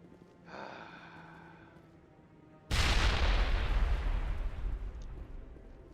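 Grenade blasts in the video game Mass Effect: a loud, sudden explosion erupts midway and rumbles on with a long, dense roar after a quieter stretch of tonal game sounds.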